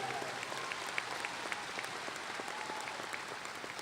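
Applause from a high school graduation crowd in 2022, a continuous wash of many hands clapping at even volume, with a few louder claps and faint voices mixed in.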